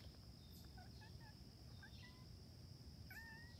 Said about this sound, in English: It's a chipmunk telling the other chipmunks that there's a cat around.